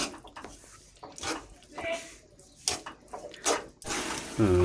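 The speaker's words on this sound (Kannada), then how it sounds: "ಸೊ ಈಗ ನೀರು ಬಿಟ್ಟಾಯಿತು." Water poured into a pan of tomatoes cooking in oil gives a run of splashy, sizzling bursts close by, with voices talking over and between them.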